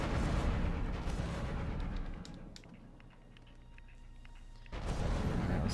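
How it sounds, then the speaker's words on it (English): Fireworks bursting in the LEGO Harry Potter video game, loud rumbling blasts that drop to a quieter crackling stretch before swelling again, with no talking. "Oh boy, fireworks."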